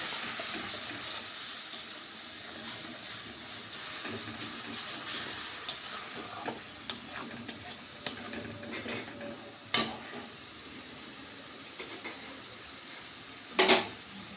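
Egg resala is stirred gently in a pan over a soft steady simmer and hiss, with scattered light clicks and scrapes of a utensil against the metal and one sharper clatter near the end, close and unvoiced.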